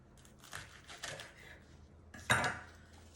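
A knife cutting the tip off a jalapeno pepper, a few soft close taps followed by one sharper chop against the board, faint and brief.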